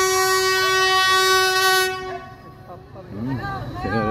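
Train creeping slowly across the Bridge on the River Kwai in Thailand, a loud sustained horn blast for about two seconds followed by rumbling wheels on the bridge, with people talking nearby.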